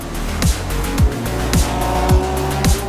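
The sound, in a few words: race car passing on track at Gulf 12 Hours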